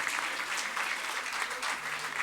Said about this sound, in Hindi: तालियां रुकनी नहीं चाहिए एवरीबॉडी